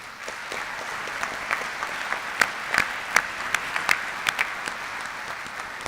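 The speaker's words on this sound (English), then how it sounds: "Let's give yourselves a round of applause." Graduates of a U.S. Army flight school class give themselves a round of applause at their ceremony, a steady wash of many hands clapping with sharper individual claps standing out near the front.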